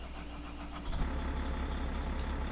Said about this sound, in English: I bet you have to start the engine.